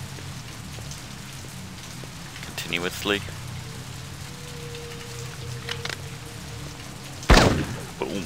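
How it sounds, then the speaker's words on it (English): Rain falls steadily in the Blade Runner PC video game, a constant wash of drops on surfaces, broken by a few brief thuds and a sharp knock near the end, with a voice speaking briefly. "It's real rain, by the way."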